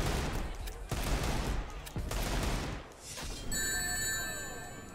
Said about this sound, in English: so you do back and heavy to do Shadow's guns.